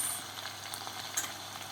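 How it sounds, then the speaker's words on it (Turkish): Steady, soft sizzling of ingredients sautéing in a pan for a quince dish in olive oil, with sugar and salt added, a faint continuous hiss with light stirring crackles and no voices. "3-4 dakika kavurduk malzemeleri"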